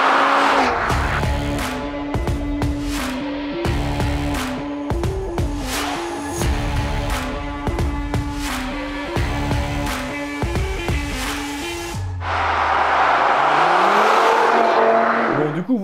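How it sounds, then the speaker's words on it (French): An Audi TT RS engine revs hard and loud in repeated bursts that climb and drop as the gears change, then a rushing, squealing tail follows as the car pulls away. "Brap, c'est aussi, le bruit d'un moteur qui accélère."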